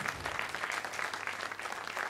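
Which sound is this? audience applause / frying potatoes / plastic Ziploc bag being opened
audience applause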